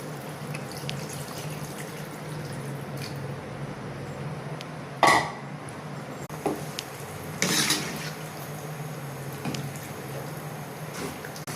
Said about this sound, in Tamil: எனக்கு தேவையான அளவுக்கு தண்ணி ஊற்றிக்கிறேன்.